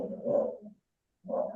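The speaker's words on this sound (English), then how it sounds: "Someone's dog's unhappy." A dog barking indoors somewhere nearby, giving two longish, low, muffled barks or yowls separated by a short silence, moderately loud.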